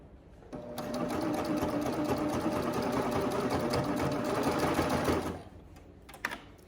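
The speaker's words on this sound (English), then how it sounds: "just gonna be moving and straightening the fabric back up so that it can be serged all the way around" A serger sewing machine runs in one steady, fast whirring burst while it overlocks fabric edges, starting and stopping cleanly, with a few small handling clicks afterward.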